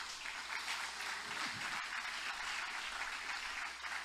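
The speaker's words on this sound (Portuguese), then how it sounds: "Quem vai aplaudir a Deus agora?" A church congregation applauds during a Portuguese-language sermon, with steady, sustained clapping held at a moderate distance and a faint voice surfacing briefly partway through.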